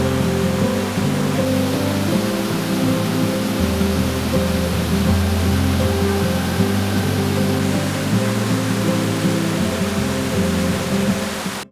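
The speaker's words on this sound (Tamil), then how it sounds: "இந்த பாறைகளுக்கு நடுவில் தண்ணி ஃபோர்ஸாக போயிட்டுருக்கு" Water rushes forcefully between the rocks at Canyon Sainte-Anne in Quebec, a loud, unbroken roar that fills the scene with no pauses.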